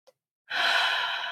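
A single long, deep inhaled breath, close and airy, rising steadily and holding for nearly a second after a tiny soft click.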